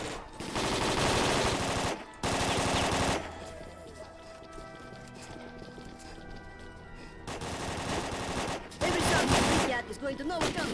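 Loud, sustained bursts of automatic gunfire in the S.T.A.L.K.E.R.: Call of Pripyat game, two dense volleys at the start, a quieter stretch of ambience with faint tones, then more heavy bursts near the end.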